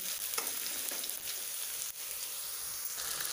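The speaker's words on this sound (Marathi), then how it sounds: "आता मी गॅसची फ्लेम लो करते आणि आपले जे सॉस घेतलेत ते मिक्स करते" Gobi Manchurian frying in a pan over a low flame as sauces are stirred in, giving a steady close sizzle with scraping stirs and no talking.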